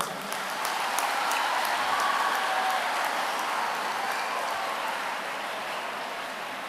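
A seated audience at a Rotary district student awareness event breaks into sustained, even clapping, a continuous crowd wash that holds steady and fades slightly at the end.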